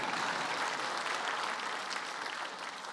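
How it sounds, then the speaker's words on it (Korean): Congregation applauding during a church family worship service, an even wash of many hands clapping at moderate distance that fades gradually toward the end. "우리 수고한 간수장에게도 박수를 부탁드립니다"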